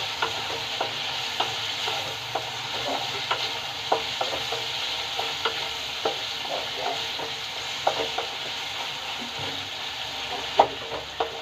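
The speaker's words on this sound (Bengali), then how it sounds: "এটা একটু ভাজা ভাজা হোক।" Potatoes fry in a pan, giving a steady close sizzle throughout, broken by regular scraping strokes as they are stirred; no voices.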